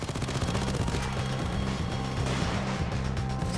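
Sentry gun firing in a Nintendo Switch video game, a continuous rapid burst of loud mechanical gunfire with a repeating rhythmic pattern throughout, heard alone without talk.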